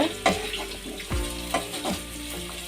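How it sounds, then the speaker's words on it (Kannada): Garlic, onion and curry leaves frying in hot oil for a homemade fish curry, a steady close sizzle with a few scraping stirs of the spoon against the pan. "ಬೆಳ್ಳುಳ್ಳಿ ಕರ್ಬೇವಿನ ಸೊಪ್ಪು ಇವಿಷ್ಟು ಹಾಕ್ಕೊಂಡು ಫ್ರೈ ಮಾಡ್ಕೋಬೇಕು ಸ್ವಲ್ಪ"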